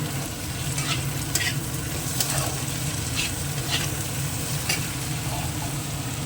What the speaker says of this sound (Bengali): এখন একটুখানি ভেজে নিই সবগুলোই একটু দিয়ে দেবো টমেটো